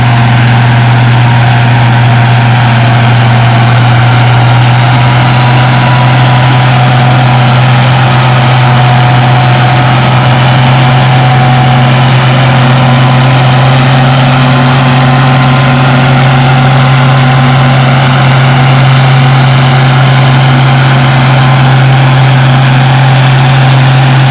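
A heavy tractor engine, an 806 pulling 9,000 pounds at a tractor pull, drones loud and steady under strain, a deep constant rumble with a low hum that barely changes throughout.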